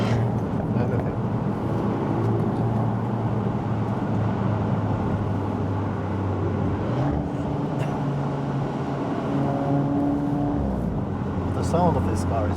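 A Cupra Formentor ABT drives through a village, its engine a steady, full drone under constant road and cabin noise that shifts slightly in pitch as it goes.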